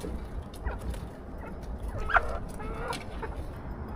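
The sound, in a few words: chickens clucking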